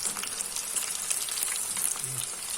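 Chicken kebabs sizzle steadily in hot oil, a dense continuous frying crackle with scattered pops, close and fairly loud, with no voices.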